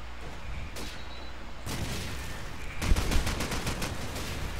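Call of Duty 4 gunfire in an esports match: scattered shots, then a rapid burst of automatic fire near the end, over a constant background hum.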